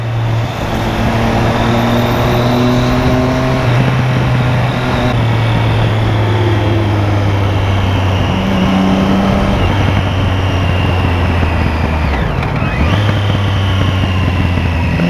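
Road traffic heard from a rider on a motorcycle, with engine drone and a passing Honda Titan motorcycle on the highway; steady loud engine tones shift pitch as vehicles go by, with no talk.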